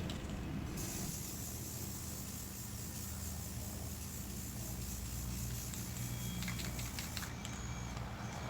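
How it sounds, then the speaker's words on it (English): Steady hissing spray from an aerosol can of white spray paint, with sharper bursts of spray at the start and the end. "grabbed a rattle can in order to spray paint this white"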